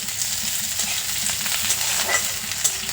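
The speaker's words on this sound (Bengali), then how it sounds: "এবার পেঁয়াজটা হালকা লাল করে ভেজে নেব" Chopped onion fries in hot oil in a pan, a steady close sizzle with occasional crackles and brief stirring scrapes throughout, no voices.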